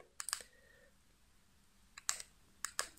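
Keys tapped on a keyboard while a Radtel RT-470X radio is being programmed, one short burst of clicks, a pause, then two more quick clusters, close and quiet with no talking.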